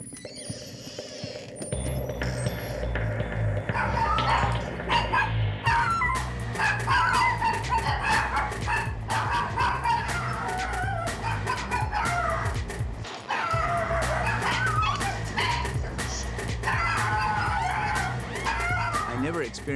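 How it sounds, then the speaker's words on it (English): Chinese Crested dogs bark repeatedly amid a busy, noisy setting, with clucking fowl and voices mixed in throughout. "I never experienced so much barking, you know, coming from Chinese crested"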